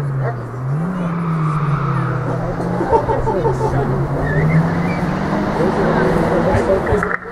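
Race car driving past at the Oberlausitzer Dreiecksrennen road race in 2019, an engine droning and shifting pitch as it runs by, under continuous talk from a commentator.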